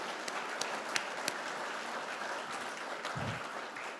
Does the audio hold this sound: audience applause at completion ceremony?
yes